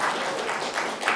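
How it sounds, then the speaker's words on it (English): Audience applause in a city council chamber, a steady wash of many hands clapping for about a second without pause. "As I understand people want to clap"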